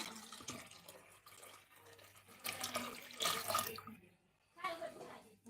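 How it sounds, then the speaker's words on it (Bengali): Hot water pours and splashes into a cooking pot of sautéed potatoes in bursts, rushing louder for a moment then trailing off, with a low background hum. "গরম পানি দিয়ে দিচ্ছি"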